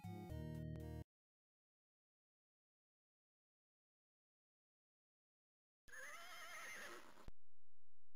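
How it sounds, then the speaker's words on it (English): Horse whinny in the video game Timequest, a short loud neigh after a stretch of silence, following a brief burst of game music. "Horse didn't like that, I think."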